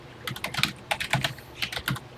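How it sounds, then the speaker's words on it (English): Keys clack on a TI-99/4A home computer keyboard in irregular bursts of close, crisp taps, with brief pauses between groups of strokes and no voices. "let's go ahead and start typing"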